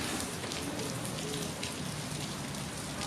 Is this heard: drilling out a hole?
no